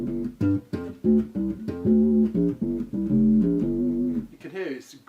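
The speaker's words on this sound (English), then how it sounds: "you can hear it's a great synth bass sound now" Bass guitar run through an octave pedal with the clean signal turned off, giving a fat synth-like bass tone; a series of sustained, punchy notes in a steady riff, close and fairly loud, played alone.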